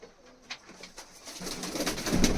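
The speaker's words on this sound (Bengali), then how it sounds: "পায়রা প্রচণ্ড অ্যাক্টিভ এবং ছটফটে পায়রা বন্ধুরা দেখো" Giribaj pigeons in a loft, soft cooing and scattered calls at close range, faint at first and growing louder with some rustling toward the end.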